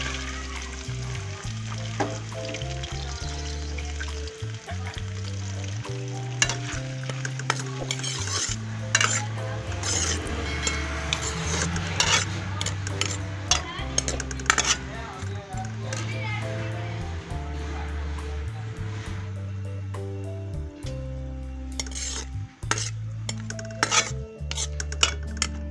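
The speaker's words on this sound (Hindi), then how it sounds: "अब मैं इसमें प्याज डाल दूँगी।" Onions fry in hot oil in a pan for a beef and spinach curry, sizzling steadily while a spoon scrapes and clinks against the pan in repeated stirring strokes, with a background murmur that may include a voice.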